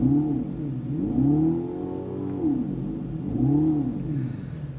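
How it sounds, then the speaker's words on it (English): A Dodge Charger Daytona electric muscle car starting up, giving a deep synthetic engine-like growl that swells and falls in repeated rising and dipping sweeps, close and steady with no talk. "I'll start this up here and you can take a listen for it."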